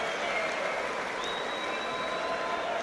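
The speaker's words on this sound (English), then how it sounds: "Good sporting applause for Tubieron as well from the crowd." Steady applause from a boxing crowd, a continuous even wash of clapping at moderate level with no clear voices standing out.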